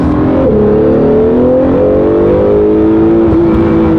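A Lamborghini Huracan tuned on a 42% ethanol blend revs hard and accelerates in one loud, continuous pull, the engine note rising steadily with a brief dip between gears.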